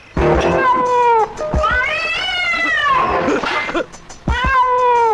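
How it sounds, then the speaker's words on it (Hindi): A series of loud, wavering cat meows close up, three long yowls with brief pauses between them, in a horror film. "उसी बिल्ली की आवाज है।"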